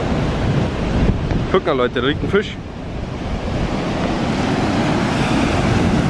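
Ocean surf washing onto a beach with strong wind buffeting the microphone, a continuous loud roar; someone speaks briefly over it.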